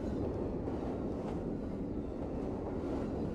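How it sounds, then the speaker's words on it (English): A train rumbling past in a video game, a dense, steady low roar of rolling wheels and carriages that holds evenly throughout and carries no speech. "Train's coming, train's coming"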